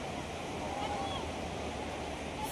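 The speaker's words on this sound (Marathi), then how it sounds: "केवढा समुद्र किनारा आहे." Sea waves at Shrivardhan beach on the Konkan coast roll in as a constant broad wash of surf, steady and fairly faint, with some wind buffeting and no clear speech.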